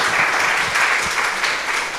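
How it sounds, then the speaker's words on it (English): An audience at a book launch applauds a panel. Dense, even clapping fills the whole stretch and fades slightly at the end, with no voices. "Please clap hands again for our panel as they make their way to their seats."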